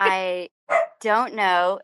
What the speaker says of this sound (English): It's a dog this time.